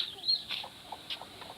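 Desi (native) chickens cluck in a few short, faint, scattered calls, with no talk over them.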